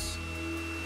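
A hair dryer running on its style setting while powered through an inverter, a steady close whirring blow with no pauses over a short stretch.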